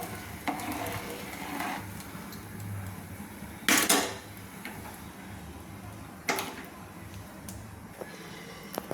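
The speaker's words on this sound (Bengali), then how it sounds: "এইভাবে আমি ঘন ঘন নেড়ে নেব যাতে নিচে না বসে যায়" A spoon scraping and knocking around a pot of Badshabhog rice payesh, with irregular clinks and a couple of sharp louder taps over a low steady simmer, close and fairly quiet.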